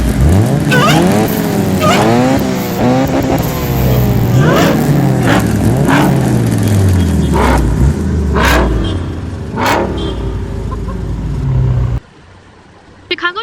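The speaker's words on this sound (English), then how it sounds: "That sounds like Lexi's Integra" An Acura Integra engine revving hard through repeated rising gear pulls, loud and close, with pops between shifts, ending in a sudden drop to quiet.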